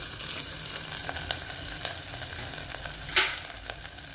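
Curry leaves sizzle and crackle in hot oil for a buttermilk-curry tempering, a soft steady hiss with scattered pops and one sharper spatter near the end, close and moderately quiet, no voices.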